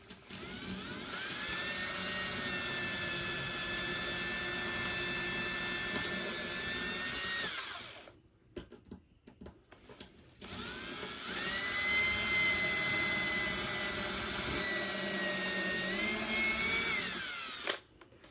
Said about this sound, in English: We're going to go ahead and drill a couple more holes.